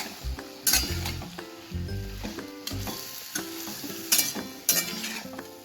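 Chana dal and ridge gourd sabzi sizzle in a frying pan as a spoon stirs and clinks against the metal in repeated close strokes, with a steady frying hiss underneath.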